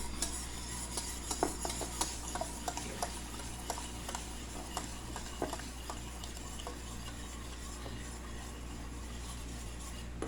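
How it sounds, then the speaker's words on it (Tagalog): Eggs for chawanmushi are whisked in a bowl, with a steady run of light clicks and scraping taps from the utensil against the sides, close and continuous. "Halo ko yung itlog."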